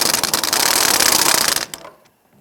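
A ratchet with an 18mm swivel socket clicks in a fast, steady burst on a Jeep Grand Cherokee bumper bolt, loud and close, then stops abruptly.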